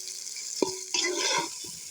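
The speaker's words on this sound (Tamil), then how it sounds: "வெங்காயம் நல்லா வதங்கிடுச்சு தக்காளியும் செத்து இப்போ வதக்கிட்டு இருக்கேன்" Onion and tomato fry for a fish curry, a soft hiss punctuated by a couple of brief spatula knocks and stirring scrapes, near and short with no speech.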